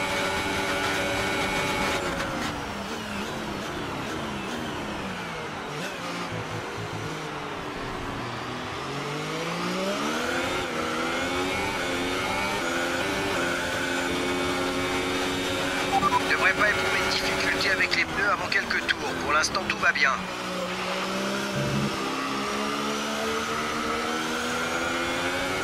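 A race car engine droning continuously at close range on an Italian circuit, its pitch sliding down and rising again as revs change, with a rougher surge near the end; voices are faintly present beneath.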